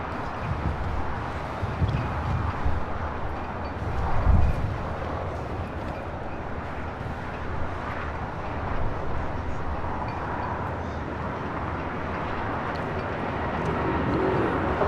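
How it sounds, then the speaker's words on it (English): A Latam Airlines airliner, flight 603 bound for Santiago, Chile, rolls for takeoff on runway 25 right at LAX, a steady broad jet roar that holds at an even level throughout with a slight swell near the end. "Now rolling on 25 right is Latam Airlines 603 out to Santiago"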